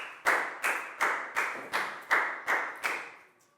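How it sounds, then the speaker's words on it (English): A Year 4 class claps for a pupil during a health lesson, about eight sharp, evenly timed claps, each ringing briefly in a reverberant room before fading out at the end. "Big round of applause for Pat"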